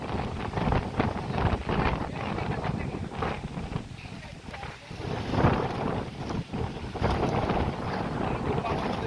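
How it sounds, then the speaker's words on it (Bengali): Strong wind gusts across open village fields where rice is being harvested, roaring and buffeting the microphone steadily throughout, with a voice heard faintly. "সেই বাতাস লাগতেছে"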